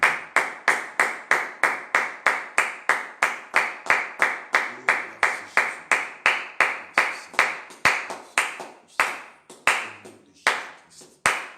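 A church congregation claps in acclamation, loud sharp claps in a fast, even rhythm, each ringing briefly in a reverberant hall, the beat loosening slightly toward the end.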